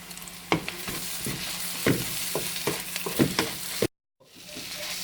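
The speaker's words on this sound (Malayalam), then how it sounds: "സവോള ചെറുതായി ഒന്ന് വഴന്നു കഴിയുമ്പോൾ അതിലേക്ക് ചതച്ച് വെച്ച വെളുത്തുള്ളിയും ഇഞ്ചിയും നീളത്തിലരിഞ്ഞ പച്ചമുളകും ഇട്ടുക." Onion, garlic, ginger and green chilli fry in oil in a pan for a Kerala-style chicken curry, with a steady close sizzle broken by repeated stirring scrapes, then a brief cut to silence before the frying resumes.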